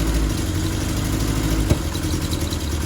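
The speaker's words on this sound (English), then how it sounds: "He's got it revving up and running better, but he's still misfiring." An MK1 VW Golf GTI barn-find engine idles roughly and unevenly with a clattering, lumpy misfire, steady and close with one sharp knock partway through.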